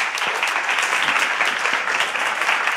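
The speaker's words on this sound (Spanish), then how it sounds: "vamos a recibir con un aplauso Frédéric Martel" A seated audience breaks into steady, dense applause to welcome a guest speaker at a public talk, filling the moment alone without any voices over it.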